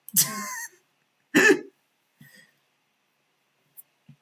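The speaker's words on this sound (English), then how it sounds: "Cough, cough. Cough, cough." Two harsh throat-clearing coughs close to the microphone, then a few faint small mouth sounds in quiet.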